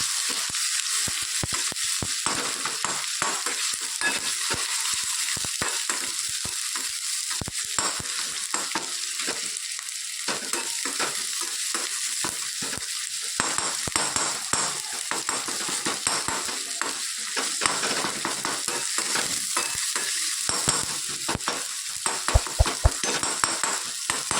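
Spice masala of pickle masala, red chilli, turmeric, curry leaves and oil frying in a pan, with a continuous close sizzle and repeated scraping stir strokes of a spoon across the pan.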